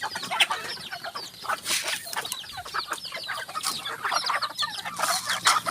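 Flock of chickens clucking and squawking close by around feeding time, a busy overlapping chorus of short calls that continues throughout.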